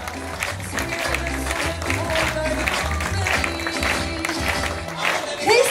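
An audience at a dance show in Sisteron claps steadily and keeps it up, a dense patter of hands with crowd noise and a voice talking over it.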